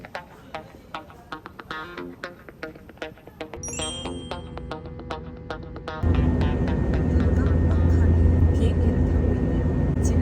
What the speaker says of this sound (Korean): 비행기를 타고 있네요